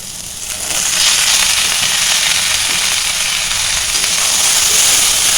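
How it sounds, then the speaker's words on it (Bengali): Cut potatoes dropped into hot oil set off a sudden, loud, continuous sizzle with crackling hiss that stays steady at close range. "এবারে আলুটা আমি হালকা ভেজে নেব"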